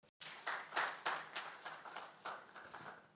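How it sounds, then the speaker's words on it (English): An audience at a young leaders' dialogue event claps together in a short burst of applause, with distinct overlapping hand claps that swell quickly and then taper off over a few seconds. "So can we give them a big round of applause?"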